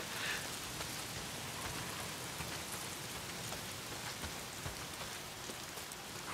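Steady rain falling in the game Days Gone, a dense, even hiss of drops spattering on surfaces throughout, moderately quiet and with no voices.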